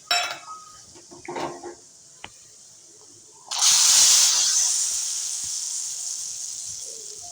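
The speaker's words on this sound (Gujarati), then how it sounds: "આવી રીતે વઘાર કરવાનો છે ઉપરથી." Hot oil tempered with chilies, bay leaf and red chili powder is poured over panchmel dal. A few light utensil clinks come first, then a sudden loud sizzle that hisses on and slowly fades.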